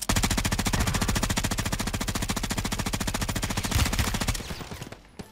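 Rapid automatic fire from a Bruen rifle in Warzone 3 rattles out in a loud, steady, evenly spaced stream for about four and a half seconds, then stops abruptly.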